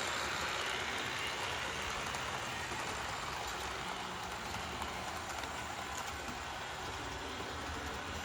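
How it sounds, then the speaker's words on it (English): An AHM HO scale Pennsylvania freight model locomotive hauls hopper cars along the track with a steady, faint, noisy whirring rattle, constant throughout with no talking. "Kind of on the noisy side, but AHM locomotives pretty much always sound like this"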